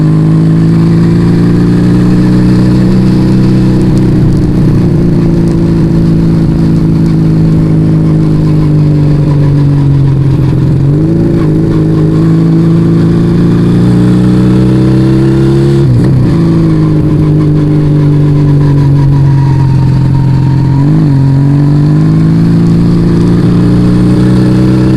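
Yamaha Vega ZR motorcycle with a two-cylinder setup, its engine droning loud and close for a sustained stretch, with several throttle blips and rev swells rising and falling over the steady tone.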